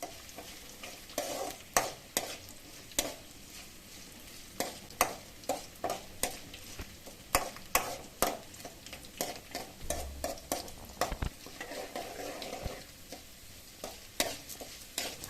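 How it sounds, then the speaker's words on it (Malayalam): Ginger, green chili and garlic sautéing in oil for a guava and lemon pickle, a steady close sizzle punctuated by regular spoon scrapes and taps against the pan. "നമ്മൾ ഇട്ട് കൊടുത്ത പച്ചമുളകിൻ്റെയും വെളുത്തുള്ളിയുടെയും പച്ച മണം പോകുന്നവരെ വഴറ്റി കൊടുക്കണേ"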